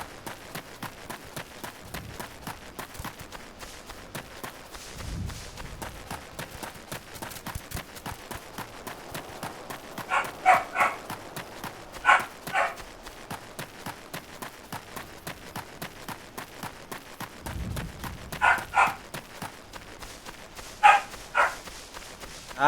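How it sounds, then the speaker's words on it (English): Dogs bark in short bursts in a Final Fantasy video game, heard in clusters a few seconds apart over a constant rapid patter of running footsteps that carries through the whole stretch. "Ay, the dogs."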